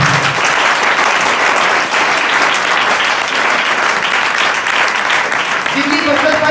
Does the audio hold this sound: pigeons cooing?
no